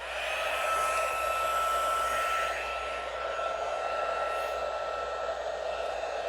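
An embossing heat gun blows steadily throughout during papercraft card making, a continuous close whooshing hum with no breaks.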